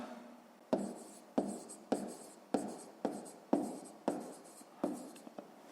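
A pen writes out a sixth-grade math solution on paper in a run of about eight distinct, regularly spaced scratchy strokes, each a sharp scrape that trails off, close and alone.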